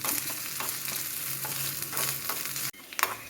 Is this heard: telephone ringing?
no